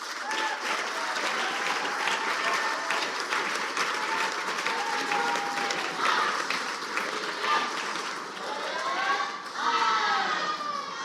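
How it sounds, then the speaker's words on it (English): Cheering and clapping from the Japanese team at a wheel gymnastics world championship individual final, a steady crowd roar of applause and shouts heard at a moderate distance in an arena. "you hear the Japanese team cheering for Shigeki"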